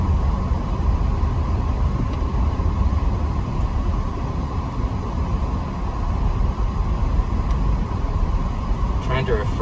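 Steady interior road and engine drone from a 2013 Volvo XC60 with the 3.2-litre engine on the move, a continuous low rumble filling the cabin with little variation throughout.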